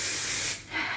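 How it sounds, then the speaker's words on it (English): An Aveda Air Control light-hold aerosol hairspray releases a loud, steady spray hiss for about half a second, then a second, softer burst follows after a short pause. "I'm gonna spray this air control hairspray by Aveda."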